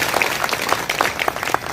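An audience claps together at a Shri Ram Katha religious discourse in Chinhat, Lucknow, a dense, steady wash of many hands applauding throughout, fairly loud and close.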